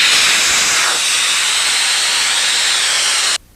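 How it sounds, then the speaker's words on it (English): Air hissing out of the valve of a Sea Eagle LongBoard hybrid inflatable SUP board, a loud, steady, close rush of escaping air that cuts off abruptly near the end. "This will allow the air to escape."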